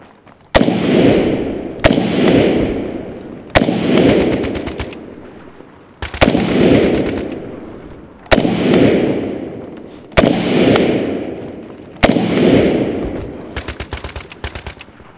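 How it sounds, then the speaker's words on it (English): A G3A3 rifle fired from a bipod in the video game Battlefield 3: about seven loud, evenly spaced single shots, each trailing a long echoing decay, then a quick cluster of rapid shots at the end. "Alright, let's get back to shooting with some bipod action."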